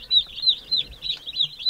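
Meat chickens resting under a heat lamp give a rapid run of high, thin chirping calls, close and fairly loud, repeating in an uneven rhythm with no talk.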